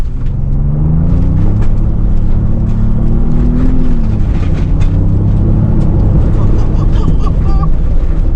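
A two-door Ford Bronco with the Sasquatch package tears along off-road at high speed, its engine a loud, steady drone with shifting pitch and heavy rumble, a voice talking faintly underneath.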